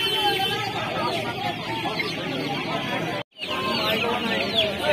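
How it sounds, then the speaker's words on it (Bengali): Turkey chicks chirp and peep in a crowd at a busy poultry market in Uluberia, a continuous high cheeping chorus close by, with a person talking over it and a momentary gap. "টার্কি মুরগির বাচ্চা দেখছেন, এগুলো"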